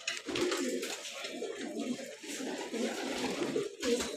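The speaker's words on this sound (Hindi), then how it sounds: "बड़ा कबूतर है।" Big black domestic pigeons in a home loft give a near, continuous run of low, rolling coos layered over one another, with no talk.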